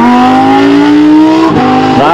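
Ferrari F8 Spider open-top supercar accelerating hard at a concours event, its engine note climbing steadily in pitch, dropping briefly at a gear change near the end, then rising again, loud and close.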